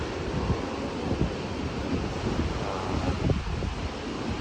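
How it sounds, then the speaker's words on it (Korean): Large waves crash against the rocky coast at Muxía, Spain, under strong wind, producing a dense, steady roar of surf and gusting wind noise throughout, loud and close with no voices. "바람도 세게 불지만 파도가 상당히 높습니다"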